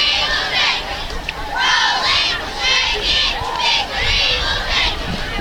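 Crowd noise from spectators who traveled from Newport to a 2017 high school football game against Corning, with loud swelling bursts of shouting and cheering that rise and fall across the clip, fairly near and continuous.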